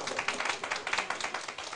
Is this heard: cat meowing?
no